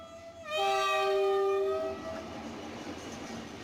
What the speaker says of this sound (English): The train began to move.